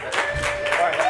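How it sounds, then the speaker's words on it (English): A stand-up comedy crowd at Mohegan Sun applauds steadily, a continuous wash of clapping with a voice faintly over it. "I usually don't get applause for that one"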